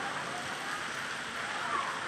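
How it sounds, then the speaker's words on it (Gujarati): Heavy rain pours steadily outdoors, a dense even hiss with no breaks, moderately loud and close, with faint voices barely present. "વરસાદ જબરજસ્ત ચાલુ થઈ ગયો છે"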